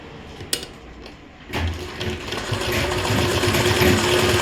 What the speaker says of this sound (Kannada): ಎರಡು ಸೇಮು ಈ ಥರ ಫೋಲ್ಡ್ ಮಾಡಿಕೊಂಡು ಸ್ಟಿಚ್ ಹಾಕ್ಕೊತಾ ಇದ್ದೀನಿ